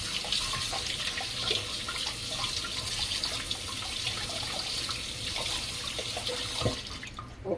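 A tap runs steadily into a sink while a red herring fish is washed, the loud continuous splashing broken by a few small clinks and knocks near the end.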